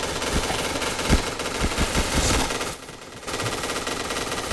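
Rapid machine gun bursts in the PointBlank shooter game, loud and dense, repeated volleys with a brief pause before firing resumes, no talk.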